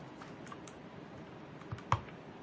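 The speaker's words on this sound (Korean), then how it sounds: "딸깍 하면서 잘 들어가요" A keycap on an ABKO Hacker K645 mechanical keyboard is pressed back onto its switch, giving faint scattered plastic taps and then one sharp click as it seats, with no talking.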